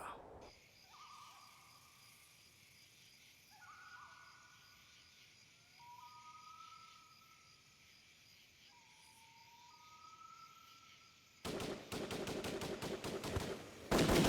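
Crickets chirp quietly through a night scene of a Hindi action movie, then a police attack erupts into loud, rapid bursts of gunfire that continue to the end.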